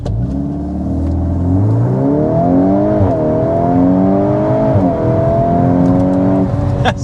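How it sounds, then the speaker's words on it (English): A 2026 Volkswagen Golf R under hard acceleration, its engine revving loud and close, climbing in pitch, dipping briefly at two gear shifts, then pulling up again. "starting out with a hard acceleration"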